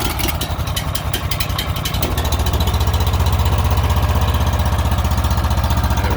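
A gas-powered water pump engine idles slowly and steadily at close range, a rough rhythmic chugging thrum that settles into an even, continuous beat after a brief shift in tone.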